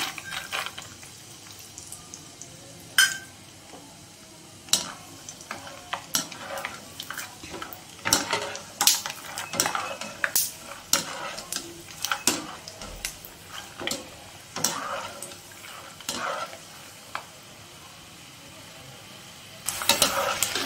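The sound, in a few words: peanuts frying in hot oil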